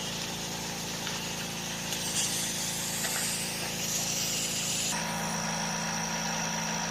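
An air compressor runs continuously while refilling its tank in a shop working on a 1986 T-Type, giving a steady droning hum at an even level, with no talking.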